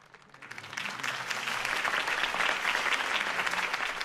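In the Batman Telltale Series video game, a crowd applauds Harvey Dent's campaign speech, the clapping swelling up from quiet within the first second into sustained, fairly distant applause.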